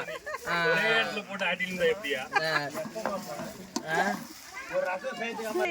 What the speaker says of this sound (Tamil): இஞ்சி பூண்டு பேஸ்ட் பரவலா கிண்ட சொல்லியிருக்காரு எங்க சீஃப்.